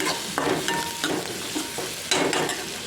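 Curry leaves, onion and tomato fry and sizzle in a pan for bitter gourd curry, with steady sizzling broken by a few bursts of stirring and scraping close by; no one speaks.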